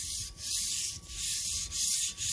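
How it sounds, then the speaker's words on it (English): Rhythmic rubbing of 400-grit sandpaper on a wheel, repeated strokes roughly every half second to second, close and steady with brief pauses between passes. "So now I've been working the wheel with the 400 grit."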